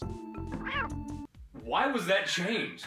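A short, high-pitched, cat-like lion cub cry from a Lion King video game rings out over synthesized music, followed by people talking.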